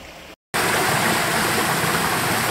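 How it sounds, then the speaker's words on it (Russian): Steady, loud rushing of a flowing river in Göynük Canyon, Antalya, fills the scene after a brief silent gap, a continuous broadband wash of water with no voices. "Пройти через речку."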